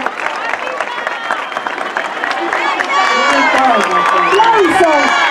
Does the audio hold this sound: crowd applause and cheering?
yes